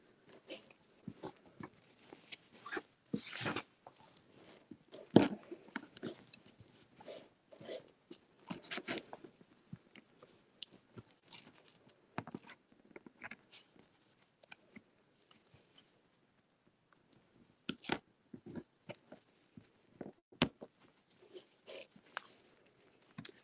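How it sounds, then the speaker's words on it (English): A blade cuts score marks into cork to make a stamp, a series of faint, irregular crisp scratches and snips with quiet gaps between them, set close against a silent background. "Just make some score marks again, a little bit deeper, and then cut around the side."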